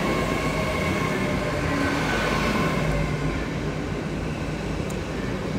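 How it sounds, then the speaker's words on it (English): Double IET intercity express train at Exeter St Davids station on a Saturday evening, giving a loud, continuous rumbling roar of rolling wheels and engines close by, with no talk. "Double IET on this one."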